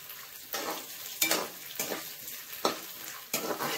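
White sesame seeds frying in hot oil in a pan, a steady crackling sizzle broken by several sharp scraping stirs spaced about a second apart, close and moderately loud with no talking.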